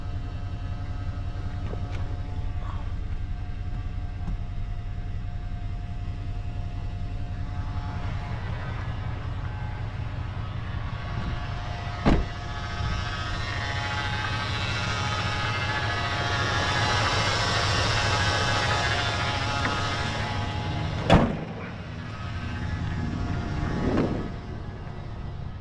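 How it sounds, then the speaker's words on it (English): A RAM 1500 pickup truck, its power steering fluid just topped off, drives around a neighborhood block with a steady, low engine drone throughout, broken by a few brief clicks and thumps. "I'm gonna drive it down the block and back and"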